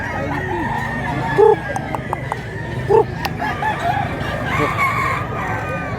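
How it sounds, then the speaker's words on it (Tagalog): Chickens cluck on a rural farm in Mantalungon, Barili, Cebu, with short loud crowing-type calls around the middle of the clip, scattered near clucks and a lively background of other fowl and faint voices. "Ito yung manok na galing bundok."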